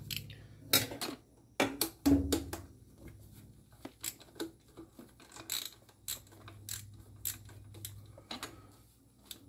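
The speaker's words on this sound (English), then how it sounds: "So I'm gonna go ahead and put my 10 millimeter on here." A 10 mm ratchet loosens a nut on the fuel rail of a 1995 Jeep Wrangler, giving a series of short, close metallic clicks and taps in irregular bursts with no talking.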